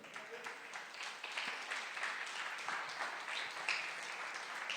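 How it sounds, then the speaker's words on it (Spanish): A church congregation applauds during a service, steady crowd clapping that continues evenly throughout, fairly distant and soft, with faint voices beneath. "Démosle un fuerte aplauso al Señor."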